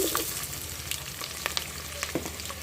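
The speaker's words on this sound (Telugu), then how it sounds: "కాలింపు వేసుకున్నాం ఉల్లిపాయలు వేసుకున్నాం" Onions and tempering spices frying in a pan for curry, a close, steady sizzle punctuated by sharp clicks and scrapes of a spoon stirring.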